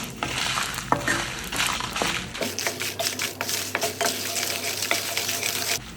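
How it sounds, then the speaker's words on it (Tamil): Dried red chillies fry in oil in a kadai with a dense, continuous sizzle and crackle, close and loud, while occasional scrapes and stirring clinks break through. "இப்போ இது கருகாத அளவுக்கு பொறுமையாக இதில் நம்ம வறுத்து எடுத்துக்கலாம்"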